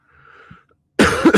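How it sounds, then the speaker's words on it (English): A single loud, close cough bursts out after a near-silent moment, harsh and raspy. "can I not cough like a madman"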